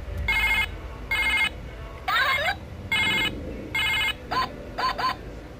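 A phone rings with an incoming call, sounding as a series of regular electronic ring bursts with short gaps between them, fairly close and clear over a faint background hum.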